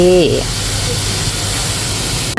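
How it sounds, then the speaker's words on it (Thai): Cooking oil heats in a pan for stir-fried eggplant, giving a loud, steady broadband hiss and sizzle throughout, with a brief voice at the start. "เราก็รอให้น้ำมันเดือดก่อนนะคะ"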